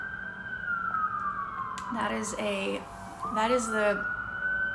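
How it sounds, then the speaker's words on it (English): A wailing siren sweeps downward in pitch, joined by a second siren rising and falling, loud and close on a New York City street, with brief speech over it. "someone spinning beats with sirens and church bells both together."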